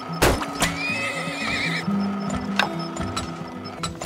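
A horse neighs loudly in the Turmoil video game, a long wavering whinny followed by clip-clopping hooves and clicks and knocks in the game mix.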